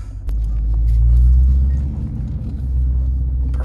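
A 2019 Dodge Charger R/T pulls hard on the road, its engine roaring in a deep, loud rumble that swells, eases briefly, then builds again, heard from inside without talk.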